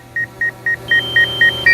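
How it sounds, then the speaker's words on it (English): Seven short, evenly spaced electronic beeps sound from a DJI Mavic 2 Pro drone's low-battery warning, clear and close over a faint steady hum, with no talking. "Now we're getting all kind of buzzers and warnings going off here because"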